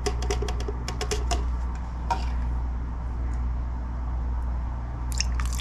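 Two eggs dropped into banana nut muffin batter from a quick bread mix, a quick cluster of close cracking and squishing clicks at the start, then quieter faint taps over a low hum.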